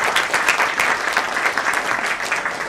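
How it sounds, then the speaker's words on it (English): Audience applause at a book launch event, a dense, steady wash of many hands clapping together, loud and close, sustained evenly without voices. "May I just ask for an applause for Niyogi Books?"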